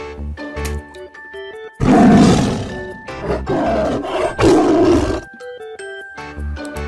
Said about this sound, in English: Yellow tiger.